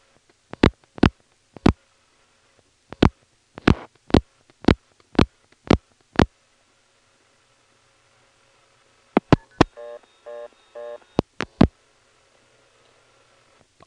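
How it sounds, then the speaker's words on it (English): A rotary-style telephone dials a long-distance number with a 1 and area code 212 through a 1977 step-by-step exchange in Ramseur, North Carolina: crisp bursts of clicking pulses, then brief switching tones and more clicks, close and clear. "I'm going to first dial 1 plus 212 and a 7-digit number"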